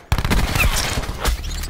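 The switchblade gun in a video game fires rapid bursts of close, loud gunshots in a dense rattling string, with a brief gap before the shooting picks up again.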